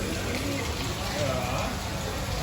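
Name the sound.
rain falling outdoors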